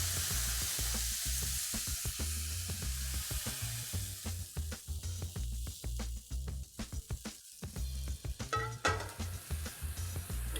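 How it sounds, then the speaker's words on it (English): Beef strips fry in a hot pan with a steady, close sizzle, broken by rattling stirs and a shake of the pan partway through, with no talking. "Let it sit on the pan for about a minute, flip it over with a good shake, and then let it continue."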